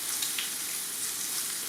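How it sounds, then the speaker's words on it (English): A Wagyu ribeye steak sears in a hot pan, giving a steady, close, dense sizzle and crackle that holds evenly throughout, with no one talking. "Just wait for the other side to sear and get nice and crispy."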